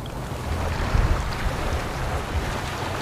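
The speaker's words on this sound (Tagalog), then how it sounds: "Sa palagay ko diyan nagsasalubong yung mga alon." Waves at a beach resort in Batangas City wash steadily in a continuous broad rush, with wind buffeting the microphone and low rumbling surges, no talking heard.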